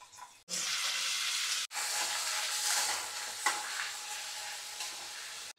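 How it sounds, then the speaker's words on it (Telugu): Onions and curry leaves frying in a pan, with a loud, steady close-up sizzle that cuts out briefly twice and is broken by light stirring scrapes. "ఈ ఆనియన్స్ లైట్గా బ్రౌన్గా టర్న్ అవుతాయి ఇంకా అన్నంత వరకు ఫ్రై చేసుకోవాలి"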